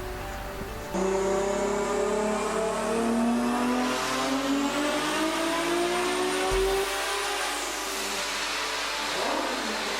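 A Volkswagen GTI-RS tuner car revs hard on a dyno, its engine note climbing steadily for several seconds in one loud, sustained pull before dropping off abruptly, then continuing at a lower roar.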